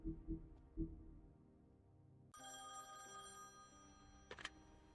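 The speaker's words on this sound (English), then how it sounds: "Oh, phone call." Telephone ringing inside The Wolf Among Us video game, a few sharp low bell-like rings at first, then a brighter tonal chime layered over a quiet game soundtrack, faint overall.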